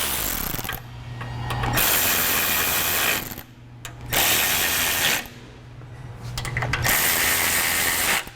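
Bolts on a Go Rhino BRJ40 front bumper for a Jeep Wrangler JK are tightened with a tool, giving three loud sustained mechanical whirring bursts separated by short quieter gaps, close by with no talk.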